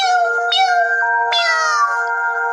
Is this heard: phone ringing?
no